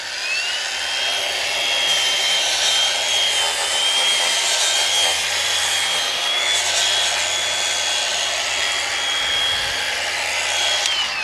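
A PXE dual action polisher fitted with a brand-new Shell Concept purple mid-cutting pad runs steadily at high speed for car detailing, a continuous loud whirring drone with a faint high whine and no pauses.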